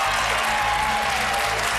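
Studio audience applause on a game show, steady dense clapping throughout under loud music.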